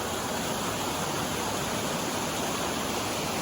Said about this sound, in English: It's another look at the waterfall above me.